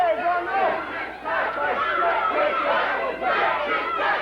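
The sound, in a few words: wrestling crowd shouting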